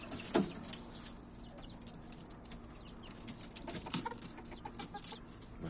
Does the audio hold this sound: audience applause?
no